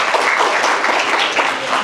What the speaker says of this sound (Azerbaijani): Bizim SM'imiz Hicran'a da bir alqışlayaq